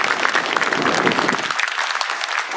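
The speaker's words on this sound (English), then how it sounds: "give another round of applause to each other" A crowd claps steadily at an outdoor veterans monument dedication in Estes Park, dense and lively at first, then thinning slightly toward the end.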